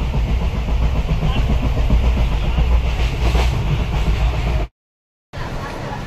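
A passenger train runs along the Konkan line from Mumbai toward Rajapur Road with a loud, steady rumble and rattling from inside the carriage, cut off by a brief silent gap before the rumble resumes.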